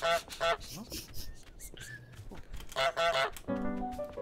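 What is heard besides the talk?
goose honking in Untitled Goose Game video game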